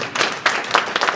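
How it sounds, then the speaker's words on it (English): Audience at a technology and innovation conference applauding after a presentation, a brief burst of scattered hand claps, close and moderately loud. "So you can give her an applause as she sits down."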